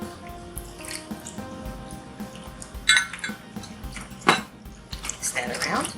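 Water and milk being stirred into batter in a bowl, giving soft wet drips, squishes and the occasional clink of utensil on the bowl, close and fairly quiet with no one talking.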